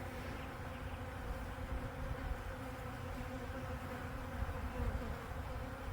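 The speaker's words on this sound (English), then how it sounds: "all these bees still flying" Dense, continuous buzzing hum of many bees flying close by, steady in level throughout with no voices.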